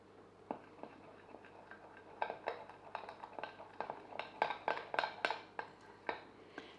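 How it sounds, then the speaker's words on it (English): Sourdough starter and flour are stirred in a bowl, the utensil clinking and tapping against the side in a quiet, quickening series of light knocks. "And we're going to stir."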